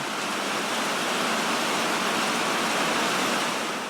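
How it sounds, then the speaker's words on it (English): A downpour of heavy rain hisses constantly and loudly, a thick unvarying wash of sound with nobody speaking. "It is really coming down now"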